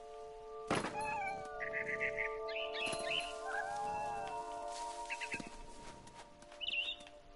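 A cat meowing in a video game, several short mewing calls and chirps at moderate distance, mixed with thumps, bird-like tweets and a faint steady tonal hum in the background.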